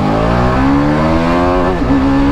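Kawasaki H2R motorcycle accelerating hard in first gear, a loud, close, steady engine roar whose pitch climbs continuously, with a brief dip near the end, alone without talk.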